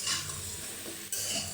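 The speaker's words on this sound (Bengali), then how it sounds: "এবার একটু কষিয়ে নেব ভালো করে, একটু ভাজা ভাজা করে নেব" Potatoes and taro sizzle in a pan with turmeric and salt, with steady frying hiss and scraping stirring strokes throughout, close and continuous, with a brief dip before the sizzle resumes.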